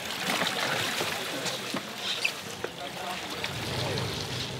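Military commandos paddling Zodiac inflatable boats with the motor off near a beach, soft water swishes and splashes with occasional paddle knocks under a voice.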